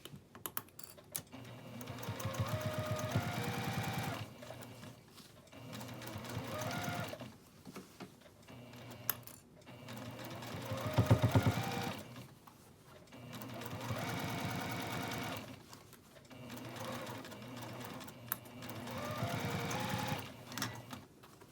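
A sewing machine runs a basting seam about 1/8 inch wide around the top of a quilted Christmas stocking, stitching in steady bursts with short pauses between runs, close and alone.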